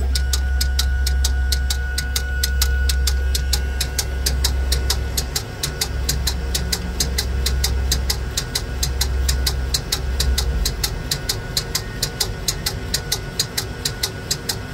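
Ink pumps on a Roland TrueVIS wide-format printer run continuously, giving a fast, even ticking pulse over a low steady hum, close and moderately loud with no voices.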